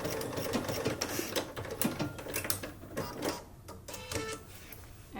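A sewing machine stitches a curved seam, its quick mechanical needle clatter running in bursts with brief slowdowns and pauses, fairly close and unaccompanied by speech.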